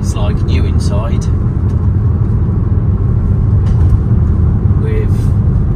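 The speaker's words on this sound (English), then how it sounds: "It drives like you would expect a new van to drive" Inside a 2019 Peugeot Partner 1.6 BlueHDi Professional L1 van on the move, a steady low engine and road rumble fills the cabin under someone talking.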